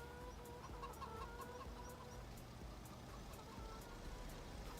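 Chickens clucking in the Farming Simulator 25 video game, a steady flock chatter with repeated short clucks at a moderate, even level throughout, no voices present.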